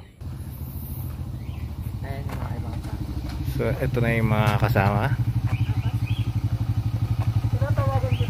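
Motorcycle tricycle arriving at a beach campsite, a close, chugging engine that grows louder and pulses rhythmically as it draws near, with people talking over it.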